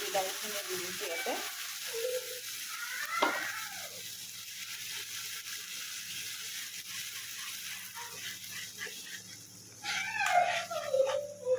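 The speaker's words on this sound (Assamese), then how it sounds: "এইখিনি মোৰ ভাজা হৈছে পিঁয়াজখিনি এতিয়া মই বিলাহীখিনি দি দিছোঁ ইয়াতে" Onions and tomatoes fry quietly in a pan, a faint sizzle with a few stirring scrapes and clinks, soft and close throughout.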